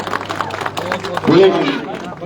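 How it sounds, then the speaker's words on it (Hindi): Scattered applause greets a minister at a village panchayat gathering of the sarpanch and local representatives: dense, fairly close claps over crowd hubbub, with a voice swelling in partway through. "ये देखिए तालियों से माननीय मंत्री जी का स्वागत।"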